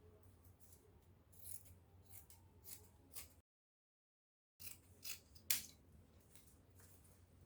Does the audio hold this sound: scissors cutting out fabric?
yes